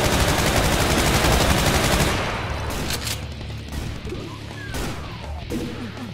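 Rapid automatic gunfire in the video game Brutal Doom v21, a dense loud barrage for about two seconds, then sparser shots, crashes and impacts over a lingering rumble.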